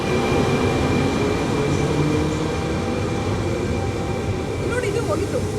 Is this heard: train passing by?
yes